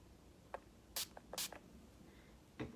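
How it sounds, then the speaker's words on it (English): Several short hissing spurts of setting spray misted onto an angled makeup brush, each burst brief and fairly close, with quiet gaps between them and no talking. "you can take an angled brush, spray it with setting spray,"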